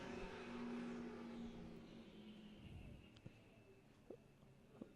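Pro Stock drag racing cars launch off the line with a loud roar that fades as they pull away into the distance, leaving faint engine noise and a few sharp knocks behind.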